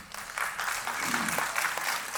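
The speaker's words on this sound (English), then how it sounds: "A huge round of applause for him" Attendees at an electronics industry panel break into a round of applause, a brisk, continuous clatter of many hands for a couple of seconds with a faint voice underneath.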